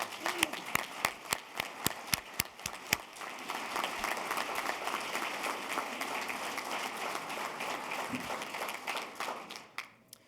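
An audience at a Labor Hall of Honor induction ceremony claps, starting with sharp, distinct individual claps that thicken into a steady round of applause before fading out at the end, moderately distant.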